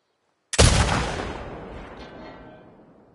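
A single loud rifle shot in a video game, fired at a sign, with a sharp crack followed by a long decaying echo that lingers for a few seconds.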